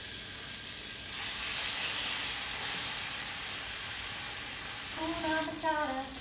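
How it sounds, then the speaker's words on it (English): A beef pot roast sears in avocado oil with a steady, close sizzle and hiss of frying, with a faint tonal clink near the end. "it's been about 5 minutes searing on one side"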